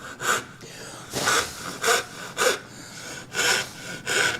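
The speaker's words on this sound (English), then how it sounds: "Now you notice I reached for my dovetail saw." Hand sawing wood with a small dovetail saw while cutting a mortise and tenon joint, heard as six or seven close, rhythmic rasping strokes with brief pauses between them, no talking.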